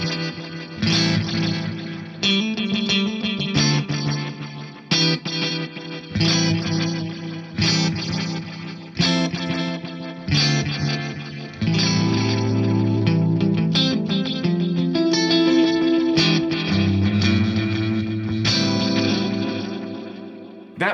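An electric guitar runs through a NUX Tape Echo pedal with delay heads 2 and 3 combined and the treble turned up slightly: plucked chords and notes trail off into layered, rhythmic repeats that build into a thick, sustained wash.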